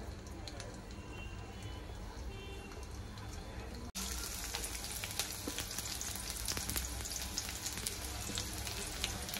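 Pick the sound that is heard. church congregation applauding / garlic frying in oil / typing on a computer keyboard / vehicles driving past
garlic frying in oil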